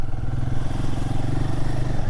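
A Royal Enfield Guerrilla 450 motorcycle pulls up a steep mountain road in second gear, its engine giving a steady, close, low throbbing drone throughout.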